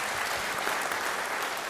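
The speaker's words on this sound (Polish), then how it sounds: "wielkie brawa dla nich" Audience applause for a band at a concert: a dense, steady wash of many hands clapping, sustained and even for under two seconds.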